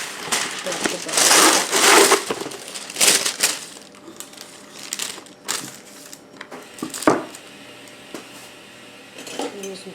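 Wax paper crinkles and crushes loudly while being wrapped around homemade goat's milk butter, bursts of crackling rustle at close range that thin out into sparse handling noises.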